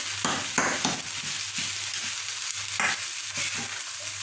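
Ackee and saltfish sizzle and fry in a pan while being stirred, a steady close crackling hiss broken by a few soft scraping stirs, with no talking.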